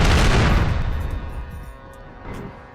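A gasoline tanker truck exploding in GTA 4, a loud booming blast with crackling debris that rolls off and fades, followed by a smaller late thump, with no voices present.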